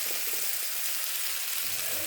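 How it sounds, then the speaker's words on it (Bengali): Coriander and cumin paste frying in a little oil for a bottle gourd dish, a steady close hiss of sizzling with a brief lower bubbling near the end, no voices. "এখানে অল্প ধনে আর জিরে বাটা আছে। একটু ভাজা হোক।"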